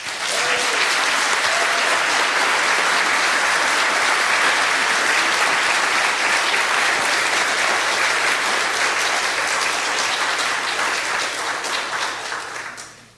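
An audience applauds steadily and loudly to welcome Reverend Cynthia Brix, a dense, sustained clapping that fills the room for about twelve seconds before tapering off at the end.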